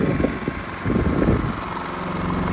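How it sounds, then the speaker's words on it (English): A Genmax 7500 iAED dual fuel inverter generator on low idle gives a steady, fairly quiet engine drone with a soft, uneven throb, running alone and close by. "Right now it's on low idle."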